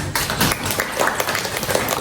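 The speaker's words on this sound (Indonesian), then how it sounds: "Oke, tepuk tangan." A short burst of steady applause, many hands clapping together at fairly close range, filling the whole moment without pause.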